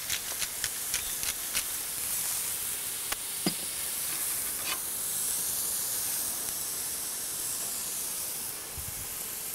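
Elk smash burgers sizzling on a hot griddle: a steady, bright hiss of frying meat throughout, with scattered sharp crackles and pops and a faint scrape or two.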